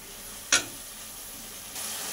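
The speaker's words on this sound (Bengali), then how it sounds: "এবার অল্প জল দিয়ে মশলাটা ভালো করে কষিয়ে নেব।" A spice paste of coriander and cumin powder, melon seed and cashew paste cooks down with a splash of water for malai mocha, giving a faint, steady sizzle with one brief clink of a utensil.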